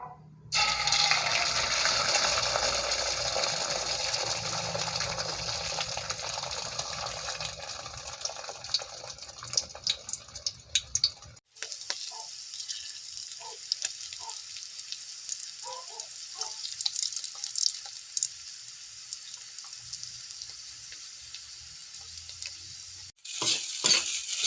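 Sardines sautéing in a pan are stirred together with beaten egg, a loud steady sizzle and scraping running for most of the stretch, then a quieter, thinner crackle with faint clicks after a brief break.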